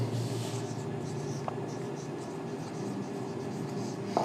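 Steady scratching of writing on a board during a math lesson, continuous and fairly even throughout, with a soft background hum and no clear talk.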